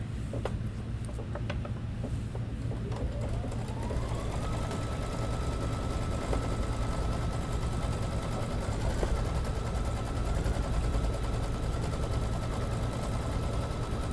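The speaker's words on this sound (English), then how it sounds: "This one's like mesmerizing to watch stitch in that pretty swirl shape." An embroidery sewing machine stitching a swirl applique in a tile scene, running as a fast steady mechanical chatter with a rising whine that settles into a constant hum, close and continuous.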